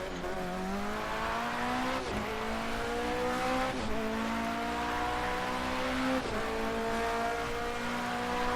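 Porsche 919 Hybrid prototype race car in Project CARS 2, its engine droning loud and steady with rising pitch sweeps that drop sharply at each upshift, about four shifts in quick succession.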